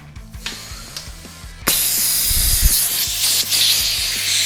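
Specialized Air Blast tire inflator releasing its charge into a bicycle tire, a sudden loud sustained hiss of rushing air after a few small clicks and rattles, close up.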